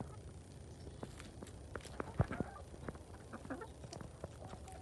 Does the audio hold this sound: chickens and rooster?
yes